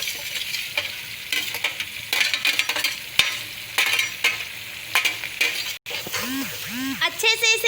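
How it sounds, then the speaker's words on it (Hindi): A spoon stirs a large batch of taro (arbi) frying in a pan over low gas, the close sizzle broken by scraping and clinking strokes, with a brief burst of voice near the end. "अच्छे से इसे मिक्स कर लीजिए आप लोग"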